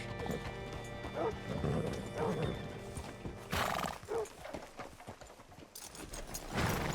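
A horse whinnies and its hooves clip-clop on a hard surface in the video game Red Dead Redemption 2, with some creaking gear and faint voices behind.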